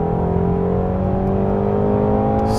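A Ford Mustang Shelby GT350 engine accelerates with a loud, smooth, steady drone that climbs gently in pitch, heard from inside the car with no talking.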